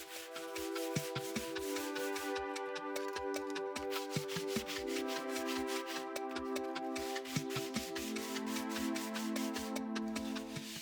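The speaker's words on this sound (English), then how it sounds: "I sanded every wood piece with 180 grit sandpaper." Wood strips and sheets rubbed with 180 grit sandpaper give a steady, close scratching rasp in dense rhythmic strokes that continue throughout under a faint tonal background hum.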